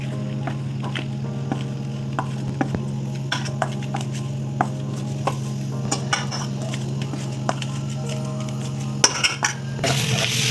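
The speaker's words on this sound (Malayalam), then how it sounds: "നമുക്കൊന്ന് ഇളക്കി കൊടുക്കാവേ." Flour-coated paneer being stirred in a pan, with scattered clinks and scrapes of a utensil against the metal over a steady background hum and a soft sizzle, rising into a louder clatter at the end.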